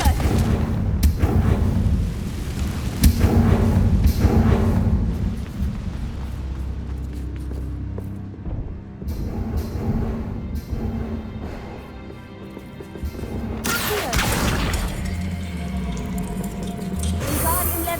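Repeated booming blasts of the Confringo fire spell in Hogwarts Legacy, loud and close, rumbling explosions layered over a dense game soundscape with surges near the start and end.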